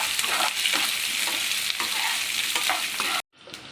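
Onion and garlic frying in a pan for onion chutney, a loud continuous sizzle with stirring strokes, cutting off abruptly near the end.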